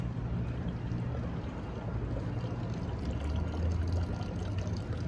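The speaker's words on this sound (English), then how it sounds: "They have a nice little water fountain back there." A small water fountain in a historic Old City Philadelphia neighborhood splashes in a steady, continuous wash of falling water, fairly close and alone with no talk.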